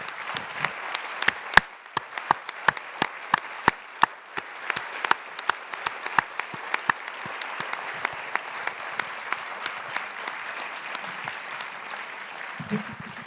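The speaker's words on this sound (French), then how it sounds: "C'est juste qu'on applaudisse aussi fort qu'on le puisse pour la remercier" Sparse, scattered clapping from a small audience at a talk on agriculture, food and Mercosur, individual sharp claps ringing out irregularly over a quiet, roomy background, with a brief voice near the end.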